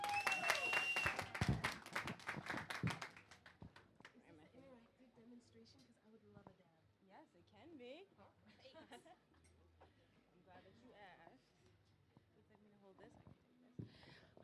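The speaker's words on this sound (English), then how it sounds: "Let's give a round of applause to her" A short burst of audience clapping for a speaker at a cannabis event, loud for about three seconds before fading out, followed by quieter sounds with a voice talking.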